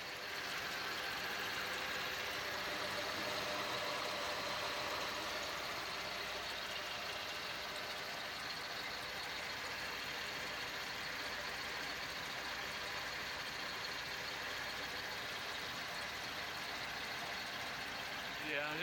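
A 2002 Bluebird school bus engine idles steadily just after a cold start, a continuous rumbling drone with a faint knocking texture at an even, moderate level.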